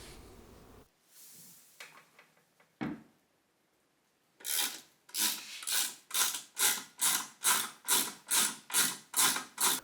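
Interior trim on a Bentley Turbo R is worked loose by hand, giving scattered rubs and knocks, then a run of about a dozen evenly spaced, loud ratcheting scrapes close up, with no talk.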